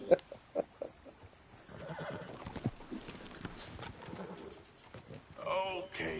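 A horse in Red Dead Redemption 2 whinnies amid clip-clopping hooves, the neigh rising loud near the end, while someone talks over it.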